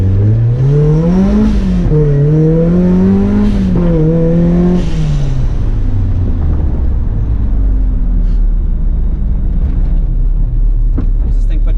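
Supercharged Mazda Miata race car on solid motor mounts accelerates hard on a street, its engine note climbing through several rising revs and gear changes before settling into a steady drone, loud and close with faint talk beneath.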